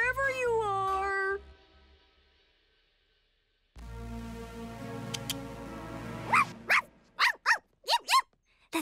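A cartoon dog barks in a run of short, sharp yelps near the end, after a stretch of sung or spoken animated-character voices and a silent gap.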